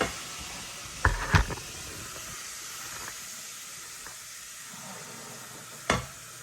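Onions being stirred with salt in a hot pan while making homemade pasta sauce, giving a steady close sizzle with a few sharp scraping knocks from the spoon near the start and again toward the end.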